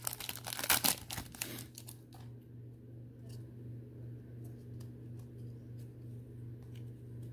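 Crinkling and tearing of the plastic wrap on an NBA trading card blaster box, a loud burst of rustling in the first two seconds, then quieter handling over a steady electrical hum.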